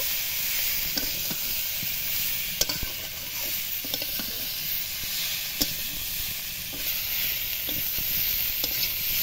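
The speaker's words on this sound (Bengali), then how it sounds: "আলুটা দিয়ে কিছুক্ষণের জন্য কষিয়ে নেব" Pre-fried potatoes are sautéed in a pan for an egg and potato curry, with a constant close sizzle and hiss broken by scattered sharp scraping clicks as they are stirred.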